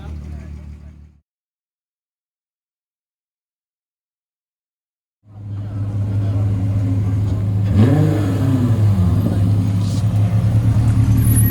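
Race car engine droning steadily on track during a ChampCar 12-hour endurance race, a loud sustained roar with a rising rev sweep, cut off by a stretch of silence before resuming.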